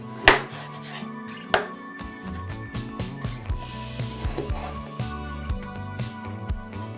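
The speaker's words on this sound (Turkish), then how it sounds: "yarım kilo tavuk göğsünü küp küp doğramakla başlıyoruz" Knife cubing half a kilo of chicken breast on a cutting board, two sharp cuts followed by a steady run of quicker, lighter chops, with a low hum beneath.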